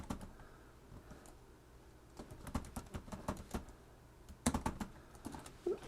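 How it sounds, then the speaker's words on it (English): Text is typed on a computer keyboard, starting with sparse scattered taps and then quickening into close, uneven bursts of clicking keystrokes with a few louder presses. "I'm just typing some text"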